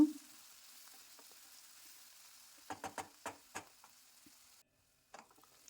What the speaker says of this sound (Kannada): ಉಪ್ಪನ್ನು ಹಾಕಿ ಚೆನ್ನಾಗಿ ಇದನ್ನು ಮಿಕ್ಸ್ ಮಾಡಿಕೊಂಡು ಟೊಮೊಟೊ ಸಾಫ್ಟ್ ಆಗೋವರೆಗೂ ಇದನ್ನು ಬೇಯಿಸ್ಕೊಳ್ಳೋಣ